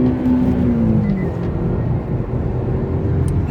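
An Infiniti Q50 in sport drive mode roars loudly and continuously, its engine drone rising in pitch and then holding steady during a test drive.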